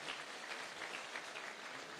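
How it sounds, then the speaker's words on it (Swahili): Applause from an audience at an iftar dinner with the Muslim community in Karen, greeting a politician named Moses; a steady, dense clapping wash throughout, fairly quiet and without talk. "Mpigeni makofi Mheshimiwa Moses"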